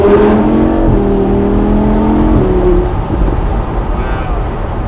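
A Lamborghini Huracan Spyder pulls hard at full throttle, its engine note climbing loud and close through the rev range before easing off near the end, heard from inside the cabin.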